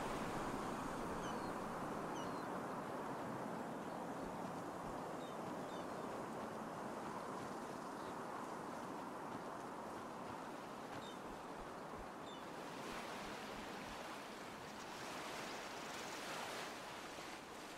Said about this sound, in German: Also da durchs Wasser schwimmt